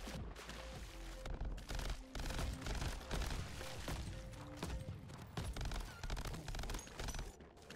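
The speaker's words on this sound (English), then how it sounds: "We have an angered minigun" Minigun firing in Crab Champions, a fast, dense stream of rapid shots with thuds and impact clatter over busy game effects, steady and loud throughout.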